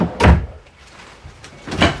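A deep drawer in a Coachmen Chaparral 381D fifth-wheel RV slides and bumps shut with a solid thud, followed a moment later by a second closing thunk.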